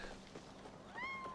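A pet cat named Beachy Boy meows nearby, one clear rising-falling meow standing out near the end over faint background sounds.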